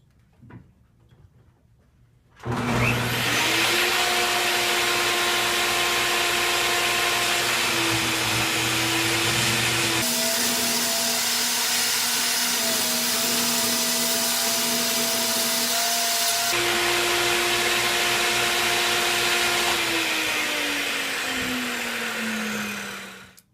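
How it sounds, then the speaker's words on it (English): A power saw whines loudly and continuously as it cuts poplar for cove molding and base cap, its pitch shifting slightly as the blade bites, then winding down at the end. "it'll buzz right through this poplar"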